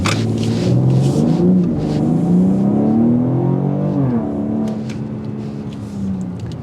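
A 503 horsepower 2024 BMW X4 M Competition engine revs hard and loud in a 0 to 60 run, its pitch climbing steadily through gear shifts, then settling into a lower hum.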